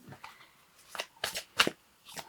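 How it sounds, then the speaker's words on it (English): Tarot cards being shuffled, several short papery riffles and slaps in quick uneven bursts, close and fairly soft with no talk. "Just let me shuffle some more for you."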